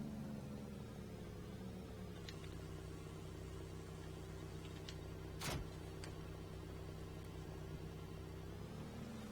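Truck with trailer driving in Farming Simulator 19, a steady low engine drone with a faint whine, constant and fairly close, with one brief higher noise burst partway through.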